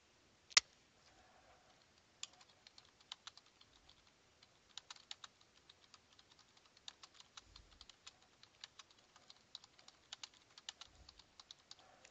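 Fingers type a footnote on a computer keyboard in soft rapid clicks, faint and close, arriving in irregular bursts after a single sharp click at the start.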